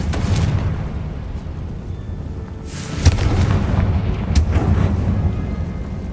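Confringo blasting spell from Hogwarts Legacy going off as a few loud booming explosions, sharp bursts near three and four and a half seconds over a continuous rumbling game background.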